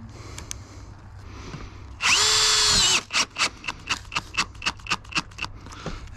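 A power drill whines steadily for about a second as it drives a fastener through a metal roofing panel, snugging a washered screw. A run of sharp, evenly spaced taps on the metal follows, close and alone.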